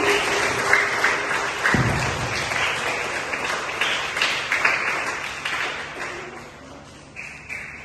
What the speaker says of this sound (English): Come here and clapping for Surya Jannat.